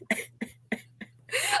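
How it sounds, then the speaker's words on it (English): A woman recovering from a slight cold coughs four times in quick, evenly spaced bursts, close and fairly loud, followed by a breathy exhale, with no talking. "I'm making you cough. I'm sorry."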